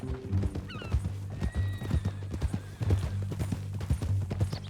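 Horse hooves clip-clop steadily close by while a horse neighs and whinnies several times, the ride carrying on throughout with no voices.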